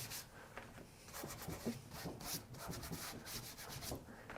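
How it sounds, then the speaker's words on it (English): A cloth rubs chalk-paint wax into a painted furniture surface, giving a steady, soft, close scrubbing swish that continues throughout without any speech. "Use the cloth to rub the wax into the surface."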